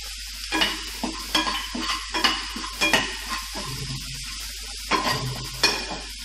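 Potato samosa filling is sautéed in a pan and stirred in repeated bursts, each scrape of the spoon rising over a light background sizzle in an uneven rhythm.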